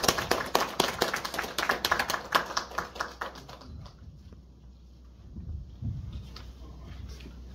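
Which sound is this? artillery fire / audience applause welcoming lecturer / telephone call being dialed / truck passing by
audience applause welcoming lecturer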